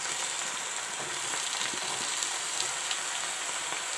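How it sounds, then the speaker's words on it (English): Cauliflower florets frying in a hot pan for a spinach, potato and cauliflower dish, giving a steady, dense sizzle with faint stirring scrapes throughout, close and continuous with no talk. "Put in the cauliflower."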